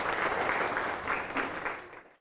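An audience at a Hindi talk claps steadily and densely for about two seconds, a close, full wash of hands that stops abruptly.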